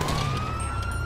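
A police siren wails steadily in Grand Theft Auto 5 on a FiveM roleplay server, a continuous loud tone over road noise with no pauses.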